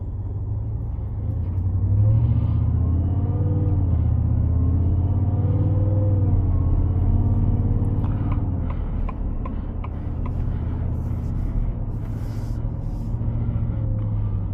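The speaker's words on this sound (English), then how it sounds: "I want everybody to see how this truck accelerates" A fairly new Ford XLT pickup truck accelerates on the road, its engine rumbling low and rising steadily in pitch through the gears, heard from inside the cab as a loud, continuous drone with ticking in the background.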